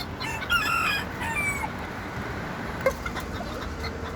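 A bantam rooster crows in a drawn-out, wavering call early on, with a faint clucking note later, all set against a steady outdoor background hiss.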